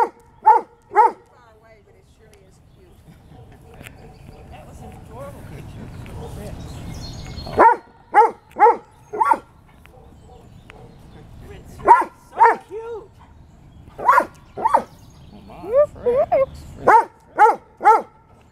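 Several pet dogs bark in short bursts while being posed for a photo at home, with clusters of sharp, close barks separated by quieter stretches as a person speaks commands and praise in between.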